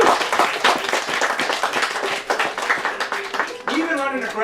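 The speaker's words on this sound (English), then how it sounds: "So give yourselves a round of applause for that." Crowd clapping and cheering at a political campaign rally, a dense burst of applause mixed with shouting voices, with a voice rising over the noise at the end.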